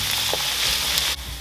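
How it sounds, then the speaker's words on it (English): Ginger and garlic dropped into hot vegetable oil in a pot, sizzling and frying loudly and steadily, close up and alone. "In this pot I have some vegetable oil and it's already hot. I'm going to add my ginger, garlic,"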